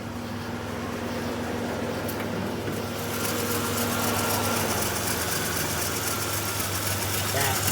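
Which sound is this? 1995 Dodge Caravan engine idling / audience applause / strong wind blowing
1995 Dodge Caravan engine idling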